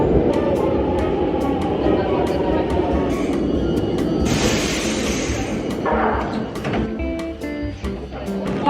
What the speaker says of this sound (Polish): I właśnie chyba nadjeżdża nasze metro.